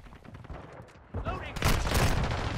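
Bursts of rapid gunfire in a Modern Warfare 2 multiplayer match, loud and dense, growing heavier toward the end with a player talking over it.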